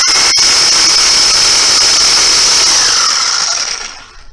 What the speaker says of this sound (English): Now what I'm going to be doing is notching out those rails.